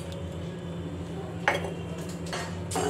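A spoon scrapes and clinks against a pot as custard mix is stirred into boiling milk, a few soft metallic knocks over a low steady background hum, with no talking.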